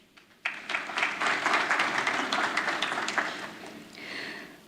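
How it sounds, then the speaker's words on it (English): Audience applause at a business event on Maldivian SMEs reaching global markets, a broad wash of many hands clapping that starts abruptly, holds steady for several seconds and thins slightly toward the end, with no voices over it. "A warm round of applause for them, please."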